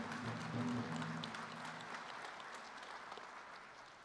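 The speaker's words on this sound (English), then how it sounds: "Let's give the veterans a round of applause" Crowd applause for veterans at a tribal college spring commencement ceremony, broad steady clapping from a large audience, fairly distant and soft, swelling early then gradually tapering off.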